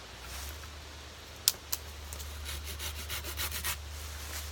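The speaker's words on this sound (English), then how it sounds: "Just going to trim it right off." A poplar sapling branch is trimmed off with a hand blade, giving soft rubbing and scraping strokes with a couple of sharp snaps early on, close and fairly quiet over a steady low hum.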